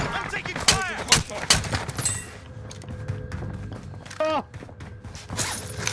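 Gunfire in the shooter game Call of Duty: Modern Warfare: sharp bursts of shots crack in irregular clusters, close and loud, with shouted talk from a player over the action.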